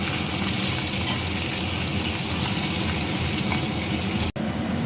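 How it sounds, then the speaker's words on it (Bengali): Fish heads frying in a pan, a dense, loud, steady sizzle up close that carries on without a break until a brief cut near the end. "দেখো এখানে মুড়োগুলো সব ভাজা হয়ে গেছে।"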